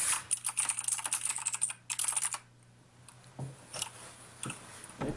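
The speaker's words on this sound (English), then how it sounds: "Mechanical keyboard." Rapid clicky keystrokes on a mechanical computer keyboard during a League of Legends game, dense bursts of typing for about two seconds, then sparser isolated clicks, close and fairly loud with no talking.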